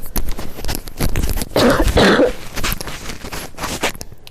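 A few rough coughs from one person indoors, clustered in the middle and mixed with faint rustling and handling noises, with no speech.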